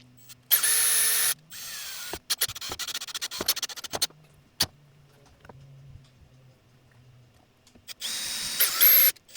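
A power drill drives strong wood screws into a deck, whirring in loud bursts at the start and end with clicks, scrapes and handling knocks in between, close and without talk.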